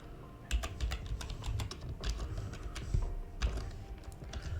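Keys clatter on a computer keyboard as a blueprint name is typed into Unreal Engine 5, a quick run of close, crisp taps with brief pauses, no voice present.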